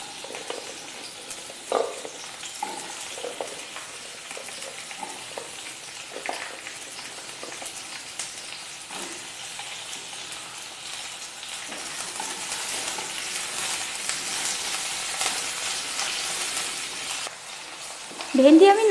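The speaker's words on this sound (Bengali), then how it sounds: "তেলের মধ্যে ভেন্ডিগুলোকে দিয়ে নাড়িয়ে চাড়িয়ে 5 মিনিটের জন্য ভেজে নেব।" Okra stirred and fried in hot mustard oil gives a steady, moderate sizzle with soft scraping strokes throughout, growing a little louder toward the end before a sharper clatter at the close.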